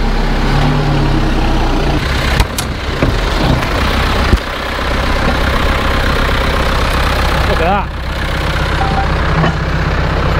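A Case A85 tractor fitted with a Malone tedder runs on a farm, its engine a loud, steady low rumble close by with a few sharp knocks and clanks, while someone briefly speaks over it.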